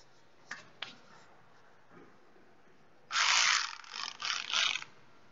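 A ratchet loosening a bolt on an Audi A4 2.0L BWT engine, a few sharp clicks followed by a fast burst of ratcheting clicks, close and clear, then a second shorter burst, with no talking.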